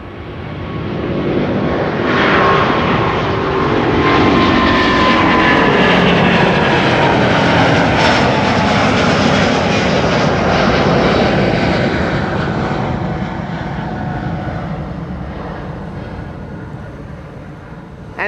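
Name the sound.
Delta Airlines Airbus A350 departing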